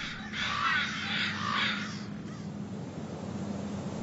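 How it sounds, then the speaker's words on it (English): Harsh caws from crows ring out a few times, moderately distant, over a steady low rumble of background noise. "The sounds of the crow represent a sophisticated vocabulary"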